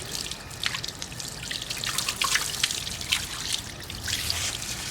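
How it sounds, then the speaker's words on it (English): Water from a garden hose drips and trickles off a sealed, polished American Force wheel, close scattered droplets pattering irregularly over a faint steady background wash. "I'm gonna go ahead and turn the water hose on and show you how that sealant kind of beads water"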